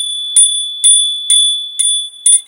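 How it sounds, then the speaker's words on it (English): A small bell struck five times at an even pace, each ring bright and sustained, decaying between strikes. "Let me hit the bell."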